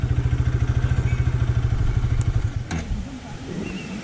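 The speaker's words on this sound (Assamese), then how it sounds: "ইয়াতে বাইকখন পাৰ্কিং কৰি লওঁ" A motorbike rides in through the inner gate of a waterfall site in Sonapur, Assam, and parks. Its engine throbs steadily and close by, then cuts out with a clatter, and faint ambient noise follows.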